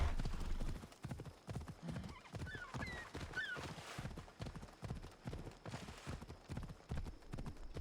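Horse hooves clip-clopping at a steady trot in Assassin's Creed Odyssey, rhythmic evenly spaced footfalls throughout, with a brief whinny and a few bird chirps in the quiet background.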